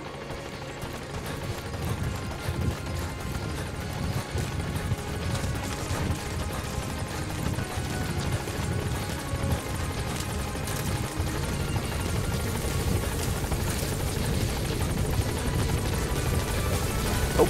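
Chopper in Metal Gear Solid 5: The Phantom Pain, a loud, dense rotor and engine rumble that runs continuously, with crashing and gunfire-like bursts over it and no talk.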